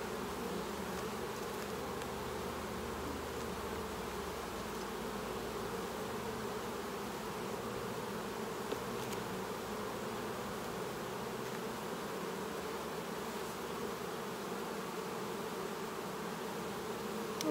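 Saskatraz honeybees at an open beehive, a dense, continuous low buzzing hum of many bees close by, steady and fairly quiet, with no voices.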